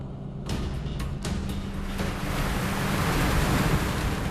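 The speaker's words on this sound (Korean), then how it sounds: "파도의 움직임이 심상치 않습니다." Sea waves and strong wind buffet a fishing boat at sea, a constant loud roar of wind and surf with a few dull thumps in the first two seconds and no voices.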